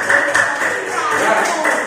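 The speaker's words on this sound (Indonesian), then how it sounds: "tepuk tangan untuk kelompok Adi ya" A classroom group applauding together for a student team, a dense, steady patter of many hands clapping at close range with voices mixed in.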